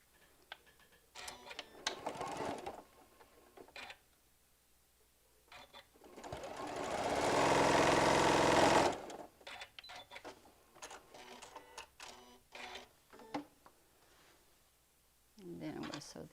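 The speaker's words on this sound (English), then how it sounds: "And then I'm going to sew these together." A sewing machine runs a steady burst of several seconds stitching quilt pieces together, loud and continuous, with clicks, handling noises and talk before and after.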